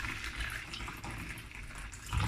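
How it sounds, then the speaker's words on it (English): Boiled water poured from a kettle into a bowl of salt, a steady close splashing stream with no talk. "I'm gonna pour hot water, boil water from the kettle."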